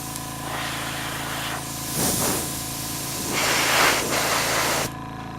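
A ZENY 802K tankless airbrush compressor drives air through an airbrush, giving a steady close hiss with a motor hum beneath. The hiss swells in a few separate bursts, then cuts off abruptly near the end.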